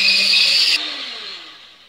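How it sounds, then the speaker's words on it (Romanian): An electric hand mixer whirs loudly in a bowl of lemon cream for a moment, then switches off, its motor whine fading down as it spins to a stop. "Acum o să o amestecăm puțin și cu mixerul."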